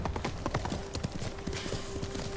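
Horse hooves clip-clop at a steady trotting rhythm while riding through the open world of Ghost of Tsushima, close and clear, with a faint tonal game sound running underneath in the background.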